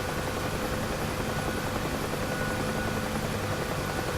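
A UH-1H Huey helicopter in the DCS flight simulator drones with a steady, loud rotor and turbine roar, an even broadband wash with a faint whine and no break in intensity.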